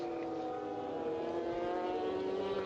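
A Honda MotoGP racing motorcycle in practice at the Qatar round, accelerating through a corner: a steady, high-pitched engine whine with strong harmonics, held at a fairly constant loudness throughout.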